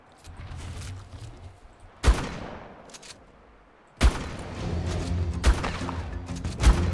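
Shotgun blasts in Ark: Survival Ascended on the Astraeos map, several loud, sharp booms spaced a couple of seconds apart, each with a ringing tail, over continuous game ambience.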